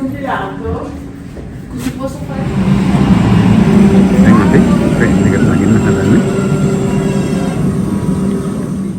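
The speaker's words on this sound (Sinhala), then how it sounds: "දැන් නම් යන්නේ ගුහාවකින්." A passenger train runs through a tunnel, its rumble building after a quieter start into a loud, steady roar that fills the rest of the stretch, with a voice heard briefly near the start.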